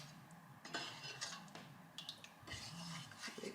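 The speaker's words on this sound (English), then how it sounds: "A good stir and leave it to it." Hawthorn berry ketchup stirred in a pot, a spoon scraping and clinking against the metal in short irregular strokes, close and fairly quiet.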